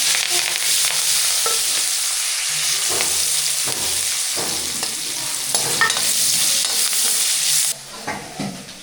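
Cumin seeds and curry leaves frying in hot oil in a pan for a tomato-free vegetable dish, a steady close sizzle with occasional stirring scrapes, the hiss easing slightly near the end.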